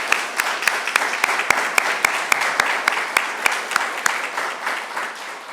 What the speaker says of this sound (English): let's give another round of applause for our speakers